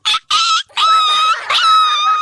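A man imitating fighting dogs vocally, with loud close snarls, yelps and drawn-out whining howls in several bursts, one after another.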